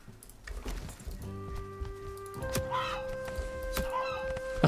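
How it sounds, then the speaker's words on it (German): Chickens in the video game Valheim cluck in short, soft bursts under sustained game music tones, with a few brief louder calls partway through. "Hier sind nur die Hühner, die hier auch sein sollen."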